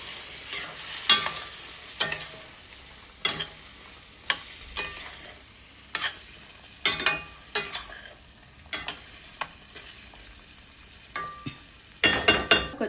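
Capsicum masala being stirred in a hot pan, a spoon scraping and clinking against the metal in repeated sharp strokes over a steady low sizzle, close and loud with no talking.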